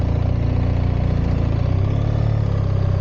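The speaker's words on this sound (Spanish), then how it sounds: "la moto suena, pero es verdad que no tanto el tubo de escape como quizá el motor" A BMW GS 1300 motorcycle engine idles after starting with a steady, low, throbbing rumble, loud and close, holding an even rhythm throughout with no other sounds.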